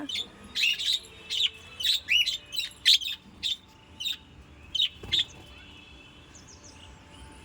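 Birds chirp in the morning on a rooftop garden, a run of bright repeated calls in quick bursts over the first five seconds, then quieter background with a faint steady hum, no speech.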